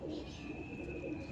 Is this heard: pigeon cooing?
yes